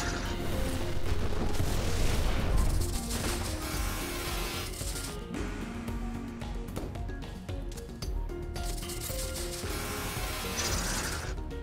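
Cannon fire and mechanical clanking in the video game Freedom Planet 2, loud booms and ratcheting, gear-like clatter layered over game music and effects, with no talking.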